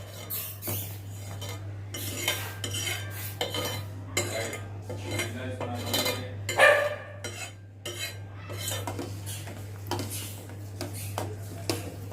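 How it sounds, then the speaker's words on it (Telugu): A spoon stirs khoa into milk in a pot for kulfi, giving soft scraping and clinking taps against the metal at an irregular pace over a steady background hum. "ఇక్కడ మనం కొవ్వ కలుపుకుందామండి"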